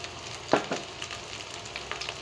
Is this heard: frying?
yes